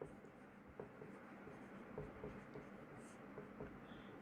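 Chalk or pen writing on a board during a Class 9 maths lesson, soft scratchy strokes with small taps over a low room hiss, faint and steady.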